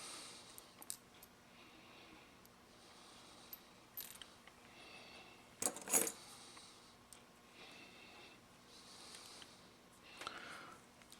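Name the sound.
retaining screw being put back into a padlock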